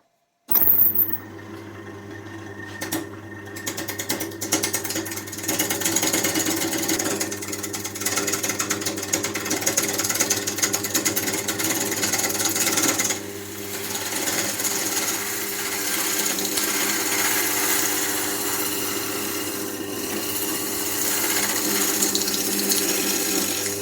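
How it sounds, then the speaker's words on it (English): A wood lathe turns a woodworm-damaged wood blank down to a cylinder, giving a steady, loud, continuous mechanical drone with a rattling tool-on-wood texture that starts abruptly and runs unbroken to the end. "I'm going to turn this down to a cylinder shape before I carry on."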